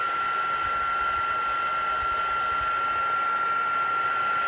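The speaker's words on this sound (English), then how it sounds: "I'll have a couple heat guns because we're going to be using them for a couple of different things." Heat gun blowing hot air to dry white paint, a steady, loud, unbroken whoosh with a constant high whine running throughout, no voices.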